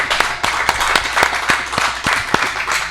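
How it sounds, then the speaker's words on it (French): A crowd applauds at the arrival of the 50th Solitaire URGO Le Figaro sailing race in Dieppe, greeting a stage winner with steady clapping and sharp individual claps standing out close by. "on l'applaudit puisque le public est là."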